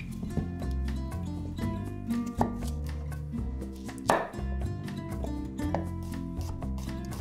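A knife chops small shallots on a cutting board in a home kitchen, with rapid, fairly close taps in quick uneven bursts over a bed of steady background music.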